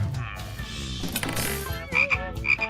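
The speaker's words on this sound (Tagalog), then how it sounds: "Palaka?" A frog croaks a few times in a short burst near the end, rising out of a busy mix of music and sound effects from a puzzle challenge game.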